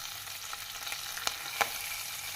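Onions and curry leaves fry in a pan for a potato dish, a soft, steady sizzle close by with a couple of light stirring clicks.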